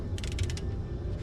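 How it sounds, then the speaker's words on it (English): A torque wrench tightens the bolts of a Cadillac ATS Brembo brake caliper fitted to a 1998-2002 Camaro or Firebird V8. A brief, faint run of rapid ratcheting clicks comes up close and then stops. "I'm gonna torque these down to 70 foot-pounds"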